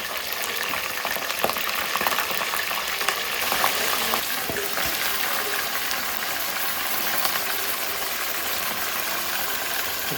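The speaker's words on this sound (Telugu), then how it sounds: "ఆనియన్స్ అండ్ మిర్చి బాగా వేగిన తర్వాత చికెన్ మనం చేసుకున్న చికెన్, ఇందులో కడిగి పెట్టుకున్న చికెన్ని కలిపేసుకుందాం." Chicken sizzles in a pan with onions and chillies, a loud, steady frying hiss that runs unbroken for ten seconds with no talking.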